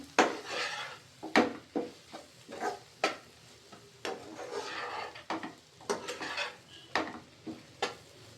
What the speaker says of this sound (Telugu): తర్వాత ఒకసారి అయితే మిక్స్ చేసుకుందాం వాటిని కూడా నీట్గా.